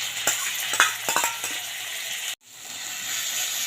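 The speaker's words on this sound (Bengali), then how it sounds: "এবার আদা রসুন লঙ্কা আমি বাটা দিয়ে দিচ্ছি" Ginger, garlic and chili paste sizzles and fries with browned onions in a hot pan, a steady close hiss with spatula scrapes and stirring clinks, cutting out abruptly then resuming as a quieter sizzle.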